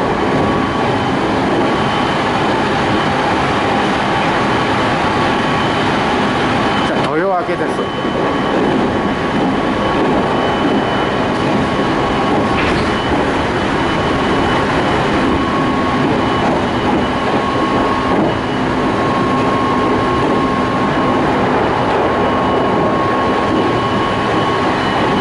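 A train passes through Zengo station in Japan, heard as a steady, loud rumble of rail noise throughout, with a sharp whooshing burst partway through.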